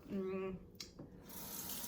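Cold water running from a tap into a sink, a steady splashing rush that starts after a short burst of voice and continues evenly to the end.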